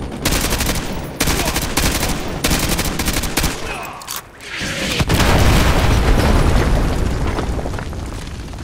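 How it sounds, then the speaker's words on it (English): Artillery strike in Call of Duty: Modern Warfare 2 Remastered: a rapid string of loud, close blasts, a brief lull, then a heavy sustained explosion that rumbles and slowly fades. "Fire mission received. Artillery inbound."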